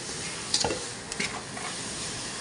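Meat stirred and frying in a pan: a loud, steady sizzle fills the whole moment, broken by a couple of sharp scraping stirs of the utensil against the pan, with no voices.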